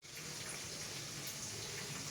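Hot water pours steadily from a cup into a seafood dish being prepared, giving a continuous close gush for about two seconds with no voices.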